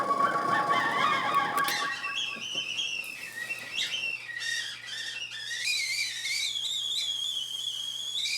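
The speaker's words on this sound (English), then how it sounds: "Use the tea kettle, whistling." A tea kettle's shrill, wavering whistle, pitched down, rises and shifts in pitch, bending up and down continuously for several seconds, loud and close with a low steady hum beneath.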